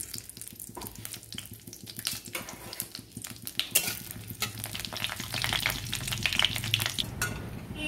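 Cloves, green and black cardamom, cumin seeds and a dried red chili temper in hot oil, crackling and sizzling steadily while a utensil stirs and clatters against the pan.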